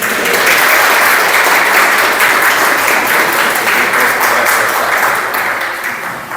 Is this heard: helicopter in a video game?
no